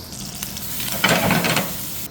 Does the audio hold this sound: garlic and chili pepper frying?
yes